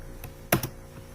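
A few quick clicks of computer keys tapped while entering a number, close and soft, with two brighter strokes near the middle and fainter single taps around them, no voices.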